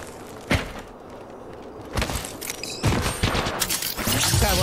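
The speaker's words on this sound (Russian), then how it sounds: "По мне стреляют." Gunfire in an online shooter game: a sharp shot early, then scattered bursts of shots and thumps growing denser toward the end, fairly loud over a busy background of game noise.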